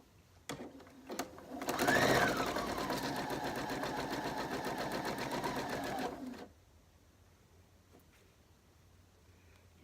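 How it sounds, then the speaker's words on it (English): Sewing machine stitching a quarter inch seam on quilting fabric, a steady whirring run of about four seconds that rises, holds and stops, fairly quiet with handling sounds before it. "Get my foot to my machine where I want it."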